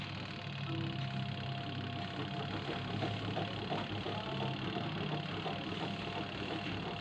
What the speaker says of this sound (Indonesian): Mesin cuci ini berputar, tidak mau berputar kencang, dia berputar pelan.